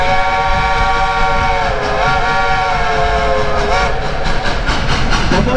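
Dollywood Express steam locomotive Engine 192, Klondike Katie, sounds a long, loud, sustained multi-chime whistle over the steady chuff and rumble of the running train, with the whistle's pitch sagging briefly midway.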